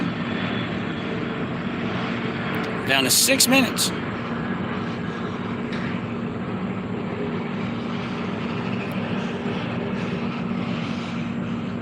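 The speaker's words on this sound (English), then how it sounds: "I see the airplane going by." An airplane flies past near an airport while someone fishes outdoors, producing a steady, distant engine drone. Someone speaks briefly over it.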